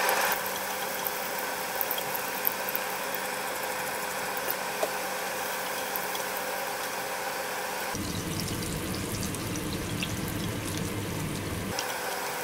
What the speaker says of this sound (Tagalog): Maingay yung exhaust fan.